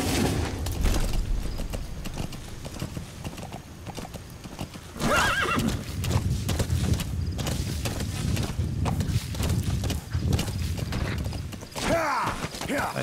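Horse hooves clip-clopping in a fast, steady gallop in the Metal Gear Solid V: The Phantom Pain video game, loud and continuous, with a whinny and some mechanical game noise near the end.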